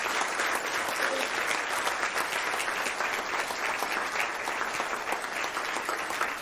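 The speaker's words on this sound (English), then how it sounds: "give a big, massive round of applause to the Bond students" A ceremony audience claps for a group of students, a dense, even wash of applause that stays steady and fairly loud throughout.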